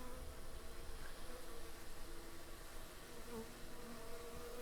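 Honeybees buzzing at a hive entrance, one bee scenting among them, a faint continuous hum and drone of many wings close by, steady throughout with no talking.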